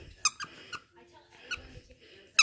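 A squeaky toy chewed by a teething baby squeaks sharply several times in quick, irregular bursts, close and fairly loud, with soft babbling and low murmurs between the squeaks.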